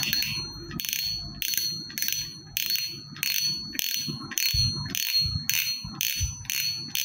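An inexpensive fishing reel's drag ratchets loudly in repeated bursts of fast, bright clicking, each about half a second long, close up and alone.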